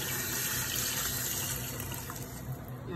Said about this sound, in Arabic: بسم الله نحط بقى المية